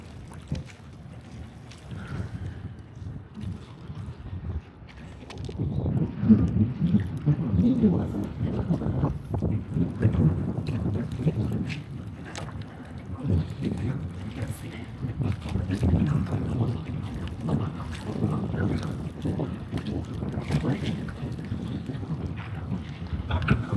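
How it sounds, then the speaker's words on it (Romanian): Wind blows outside a tent at a fishing spot, a rumbling, gusty roar that swells after a few seconds and keeps buffeting throughout, with someone talking over it. "pentru că afară bate vântul"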